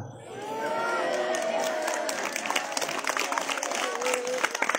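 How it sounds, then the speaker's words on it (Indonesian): An audience at a Maulid Nabi religious sermon claps and cheers continuously, a dense wash of applause with shouts and voices mixed in. "Ibu yang tepuk tangan"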